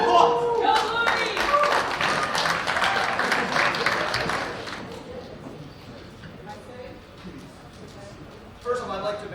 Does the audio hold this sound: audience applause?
yes